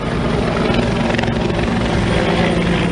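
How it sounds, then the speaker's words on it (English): A police search helicopter flies close overhead, its loud steady rotor thrum and engine whine filling every moment without any voices. "the Sûreté du Québec conducted air searches with helicopters and ground searches with dogs"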